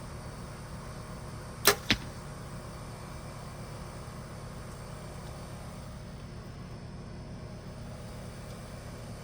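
Two sharp arrow releases from a Black Out Intrigue X4 compound bow, a crisp snap with a brief whoosh and then a second quick snap, loud and close over steady background traffic hum, with no talking.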